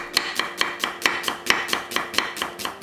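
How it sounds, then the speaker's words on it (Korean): A knife thinly slices a quarter onion on a cutting board while prepping a Korean dried seaweed dish: about twelve quick, evenly spaced cuts, crisp and close, with no talk. "양파 4분의 1개는 맵지 않게 얇게 채 썰어"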